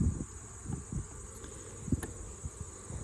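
Honey bees drone in an open hive during an inspection, a steady close buzz with a few soft thumps and bumps over it.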